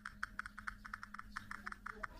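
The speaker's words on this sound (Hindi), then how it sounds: "यहाँ पर जो टाइपिंग का साउंड है" Typing on a Redmi Note 10S phone's on-screen keyboard, a rapid, even series of small tapping clicks, fairly faint over a low steady hum.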